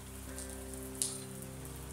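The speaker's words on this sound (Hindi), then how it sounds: "देखिए बहुत ज्यादा बारिश आ रहा है दोस्तों।" Heavy rain pours down in India, a steady dense hiss of drops on surfaces with a low constant hum beneath and a brief sharp splash near the middle.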